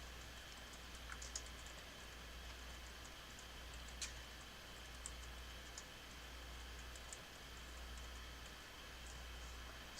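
Soft, scattered keystrokes tap on a computer keyboard over a steady low hum, with occasional sharper clicks and no talking.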